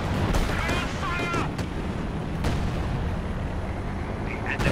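Artillery barrage and battle noise in the real-time strategy game Company of Heroes 2 during a 2v2 match, a steady loud rumble with scattered blasts and whistling shells, all under continuous commentary.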